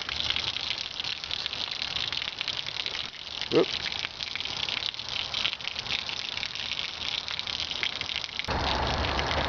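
Water gushes from the open spout of a camping water storage container, a continuous splashing pour running throughout, with a short spoken exclamation partway through.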